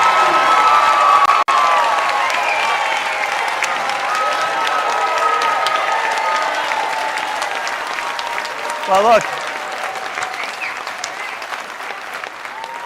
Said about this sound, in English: you got the loudest applause here